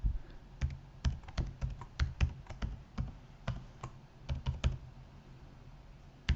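Quick, uneven clicks of keys pressed on a computer keyboard while a password is entered, close and clear, in short bursts with brief pauses and no talking.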